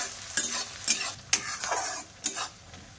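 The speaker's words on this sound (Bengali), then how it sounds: "আস্তে আস্তে পেঁয়াজটা ভাজা করে নেব।" Finely chopped onion fries in a pan under a gentle sizzle, punctuated by four or five sharp spatula scrapes and knocks at roughly regular intervals.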